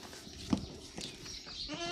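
Goats, likely Beetal, bleat faintly on a farm, with a couple of short, somewhat distant calls over low background noise and a little indistinct sound nearby.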